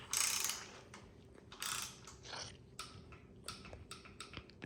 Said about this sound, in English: we've got our torque wrench set to 8 foot-pounds. And we're going to go ahead and start.